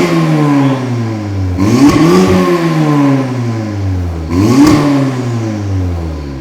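A Cupra Ateca with the GPF deleted and a downpipe, exhaust valves open in Cupra mode, revs twice hard: a loud idle rumble climbs into two sharp, raspy rises that fall back, with crackly exhaust clatter at each peak.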